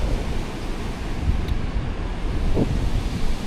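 Ocean surf on a beach with good surfing waves rolls in as a constant broadband wash, with wind buffeting the microphone and no voices.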